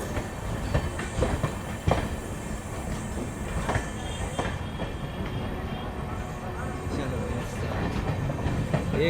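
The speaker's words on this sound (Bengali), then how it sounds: "একদম পাশাপাশি প্যারালাল রান হচ্ছে দুটো অমৃত ভারত এক্সপ্রেস।" Two Amrit Bharat Express trains on the Sealdah–Varanasi route run side by side, giving a steady heavy rumble with clickety-clack wheel beats and a few sharp metallic clanks.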